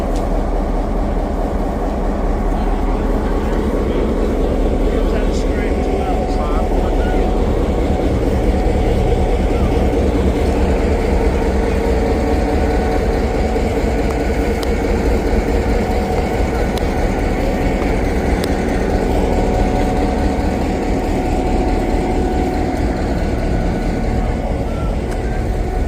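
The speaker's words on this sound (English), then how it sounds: "Train." A train rolls past at Steamtown USA, a loud, close, steady rumble of wheels and railcars that holds through the whole stretch without fading.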